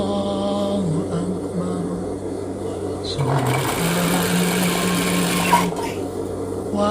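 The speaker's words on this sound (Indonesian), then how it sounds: "Kita jahit pas di bagian ujung busanya ya, atau sponnya." A sewing machine stitches along the edge of a foam or sponge layer while making a child's peci cap. The motor whirs loudly and steadily, speeding up in the middle, with a voice faintly underneath.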